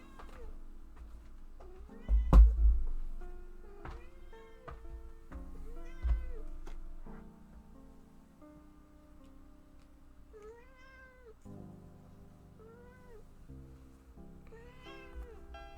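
A needy house cat meows repeatedly and close by, with drawn-out, insistent cries spread across the whole stretch, a couple of them louder near the start, over a quiet room.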